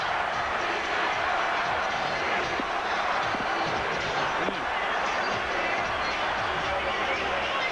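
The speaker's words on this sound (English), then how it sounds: "Listen to the crowd. They're hollering, "We want Price. We want Price."" Dense basketball arena crowd roaring and hollering a chant during the fourth period of an Eastern Conference Finals playoff game between the Bulls and Cavaliers, a steady loud wash of many voices throughout.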